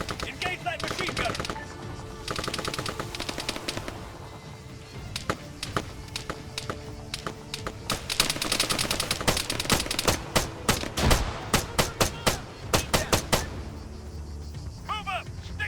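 Bursts of machine gun fire ring out in a combat scene in ARMA 3, sharp rapid volleys loudest near the end, mixed with music and other battlefield noise.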